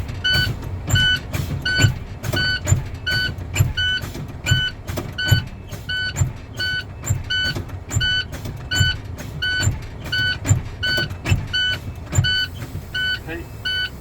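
Truck air brakes being fanned down on a CDL test vehicle, with repeated sharp hissing bursts of released air pressure in a steady rhythm, close and fairly loud over a low idling rumble.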